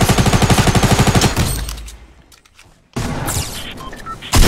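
A rapid, steady machine-gun burst in a video game, loud and close, cuts off into near silence, then a second burst of shots and a loud final blast follow.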